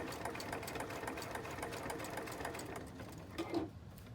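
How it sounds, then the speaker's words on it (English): A sewing machine runs steadily as it stitches to the end of a seam on a fabric binder pouch and back stitches, a continuous close whirring hum with a brief bump near the end. "All the way to the end of this and back stitch."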